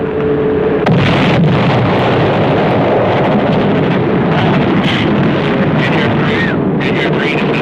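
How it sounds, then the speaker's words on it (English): Bombs exploding in the video game Battlefield WWII, in a Pacific island battle: a loud, continuous rumbling roar of blasts and aircraft drone, dense and close throughout, with a voice speaking over it. "Bombs. Very nicely placed."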